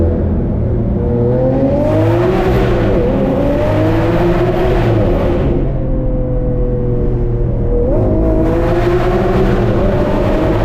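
Lamborghini Aventador SV engine revving and accelerating in a tunnel with windows down, repeated surging pulls with quick shifts between them, loud and echoing, no voices.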